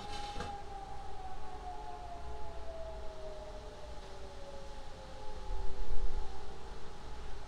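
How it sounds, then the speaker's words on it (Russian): Storm warning sirens wail steadily in two sustained tones that slowly sag in pitch, over a low rumble of wind, swelling slightly louder near the end. "О, сирены завыли."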